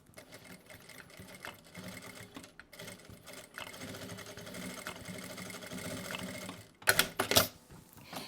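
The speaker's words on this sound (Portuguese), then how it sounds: "Eu vou costurar na máquina mesmo." Domestic sewing machine stitching a themed fabric placemat, a steady close whir with continuous rapid needle chatter, ending in a few louder bursts, with no talk over it.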